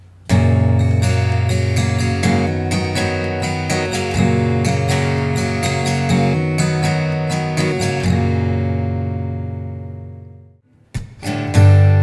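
A guitar plays a riff with hammer-ons, a run of clear plucked notes over a sustained low bass tone, ringing out and fading before a couple of final picked notes.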